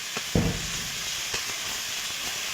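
Dried red chili and ginger paste hit hot oil in a pan for a Bengali pangas fish curry, giving a steady soft sizzle with a brief louder burst as the paste drops in, plus a few light stirring taps.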